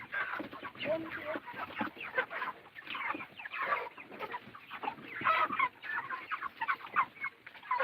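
Chickens at feeding time on a farm keep up a dense, continuous chorus of clucking that rises and falls, close and fairly loud, with no talking.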